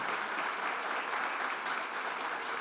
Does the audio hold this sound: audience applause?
yes